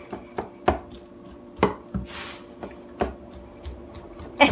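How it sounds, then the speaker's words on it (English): A spatula presses Rice Krispie treats down into the pan of a Ninja Foodi, giving a handful of dull, irregular thuds and soft scrapes, close and moderately loud, with no talking. "Take your spatula, press it down as best you can."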